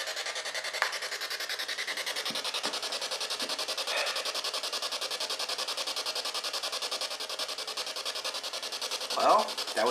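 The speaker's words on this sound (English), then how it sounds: "that would be the opening of the spirit box, and that's what it sounds like" A P-SB7 spirit box sweeps through radio static, giving a steady loud hiss with faint chirps and blips and a brief burst near the end.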